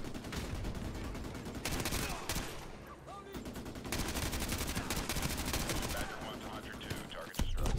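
Rapid bursts of automatic gunfire and explosive blasts from a Modern Warfare 2 Remastered campaign battle on Veteran difficulty, loud and sustained across the whole stretch with brief lulls, near and continuous.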